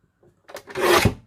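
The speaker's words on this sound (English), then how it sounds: "I'm going to cut off 4 1-inch strips on this piece." Scissors or a paper trimmer slicing through cardstock into strips for a handmade card, a short rasping cut that swells and fades over about a second, close and alone.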